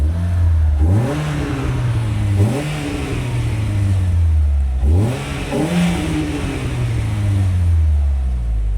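A French car's engine revs through a discreet, valveless exhaust line, two loud rising-and-falling throttle blips close by with a smooth, fairly soft tone and no talking.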